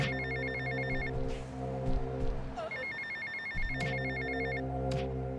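A mobile phone rings in GTA Vice City: loud, repeating electronic ring bursts with a short gap midway, over the game's background sounds.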